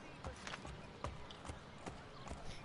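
Horse hooves clip-clop in steady, evenly spaced beats as a horse is ridden in the video game Assassin's Creed 3, alongside a faint music and ambience bed, with no voices over the hoofbeats.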